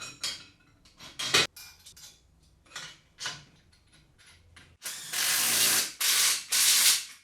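Bolts being tightened on the crossbar support of a VEVOR automotive creeper: scattered metallic ratchet clicks and clinks come first, followed by several longer loud bursts of rapid ratcheting near the end, close up with no talking.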